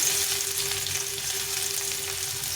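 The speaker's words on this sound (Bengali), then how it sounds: "তেলটা গরম হয়ে গেছে এখন রসুন কুচিটা দিয়ে দেবো পেঁয়াজটা দিয়ে দেবো" Chopped garlic and onion frying in hot white oil in a pan, a loud, close, continuous sizzle with a faint steady hum underneath and no talking.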